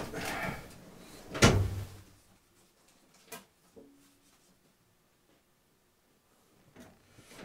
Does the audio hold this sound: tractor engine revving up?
no